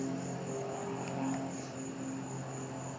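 A small propeller airplane circling overhead near Saint Augustine, Florida, a steady, distant drone and buzz that holds throughout with no talking.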